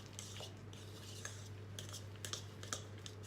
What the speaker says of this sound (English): because I use a fork to mix it